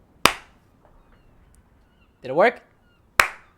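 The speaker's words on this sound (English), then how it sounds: "I guess we'll just do the clap thing" A single sharp hand clap near the start and another near the end, each crisp and isolated in a quiet room, with a brief spoken question between them.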